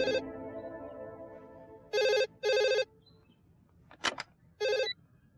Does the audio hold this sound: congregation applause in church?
no